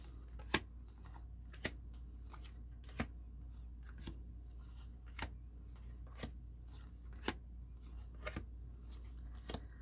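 A deck of tarot cards is shuffled in a quiet room. Sharp, crisp card snaps ring out about once a second over a low background hum.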